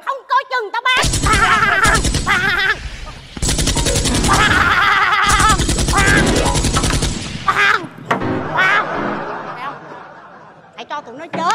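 Fake guns fire in a Vietnamese comedy sketch, with dense, rapid machine-gun-style bursts in several long volleys. Loud and close, mixed with laughter and shouting voices.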